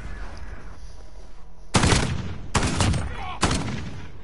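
A shotgun in Modern Warfare fires three loud, sharp blasts spaced under a second apart, each with a short ringing tail, over faint game background noise.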